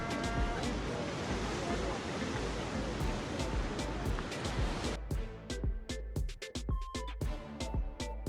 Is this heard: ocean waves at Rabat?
yes